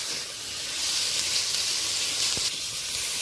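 Onion, garlic and shrimp sizzle in a little oil in a pan, a steady close hiss of frying with no voices over it.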